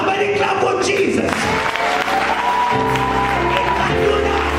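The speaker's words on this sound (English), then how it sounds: "Somebody clap for Jesus." A church congregation claps for Jesus during a sermon, broad sustained applause with some cheering mixed in, while organ or keyboard tones and voices sound beneath and continue throughout.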